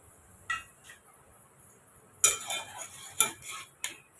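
A few scattered clinks and scrapes of a utensil stirring soya chunks in a metal pot for fried rice, separated by quiet gaps, close and soft.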